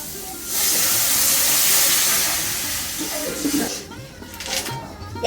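Water poured into a pan of fried spice masala sets off a loud, steady sizzling hiss that slowly fades, with a few faint clatters toward the end.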